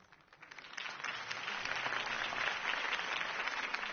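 A crowd applauds steadily, the clapping swelling after a soft start and holding as a dense, distant roar of many hands.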